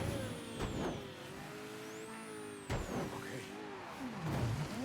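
A car engine fitted with a turbocharger in the Mafia III video game, revving and shifting with a high-pitched whine sweeping above it, joined by brief bursts of louder noise and a rising-and-falling tone near the end.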